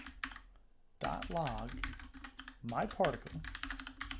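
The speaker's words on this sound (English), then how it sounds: "man, I am sloppy on the keyboard today" Typing on a computer keyboard while writing code, soft rapid clicks running throughout, partly under a man's speech.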